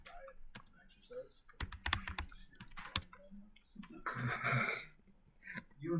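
Rapid typing on a computer keyboard in a school setting, with dense bursts of quick clicking keystrokes close by, joined by breathing and a few soft vocal sounds.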